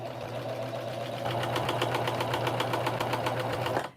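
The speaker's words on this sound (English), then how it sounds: "we're going to serge them together, and we're also going to cut off the seam allowance" A vintage Baby Lock overlock serger stitching and trimming fabric, running at a steady rapid mechanical chatter close by, a continuous whirring buzz that stops abruptly at the end.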